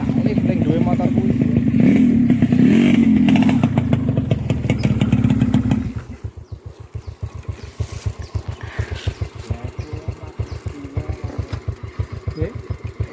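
A motorcycle engine runs near a river on a fishing trip, first a loud, rough revving drone, then settling into a steady, close idle with a fast rhythmic putter.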